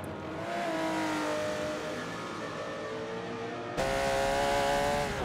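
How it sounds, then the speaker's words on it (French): Porsche race car engine accelerating in a retro 2015 World Endurance Championship racing game, a steady loud drone with rising harmonic tones, then a sharper, louder surge as revs climb near the end. "on entend la Porsche d'Accélère arriver"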